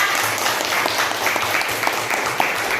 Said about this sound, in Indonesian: Ya, tepuk tangan lagi dong.